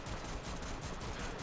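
Staticore energy pistol in Warframe firing explosive shots, a dense continuous barrage of crackling blasts and bursts throughout, loud and close with no talk.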